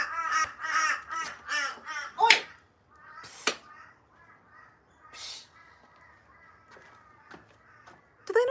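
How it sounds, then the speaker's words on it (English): Crows caw outdoors in a rapid series of loud, harsh calls, followed by quieter scattered caws and rustling with faint background sounds. "Goddamn crows."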